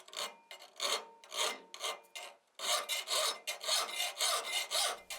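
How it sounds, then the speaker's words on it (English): Rasping strokes of a file working the edge of a blacksmith-forged Suffolk latch backing plate held in a filing vise, about a dozen rhythmic back-and-forth passes with a brief pause midway, close and clear with no talk. "A filing vise goes a long way when you start to do the edge treatment of your backing plate."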